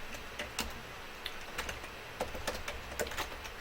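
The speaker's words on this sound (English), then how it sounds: "God, I'm terrible at typing." Rapid keystrokes on a computer keyboard, an uneven stream of close, clear clicks with short pauses, no voices.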